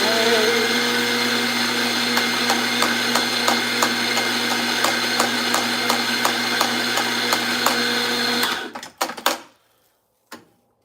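A grinder loudly whirs through coffee beans for a Can it Cano coffee test, running as a steady mechanical drone for about eight seconds before cutting off, followed by a few clicks and knocks.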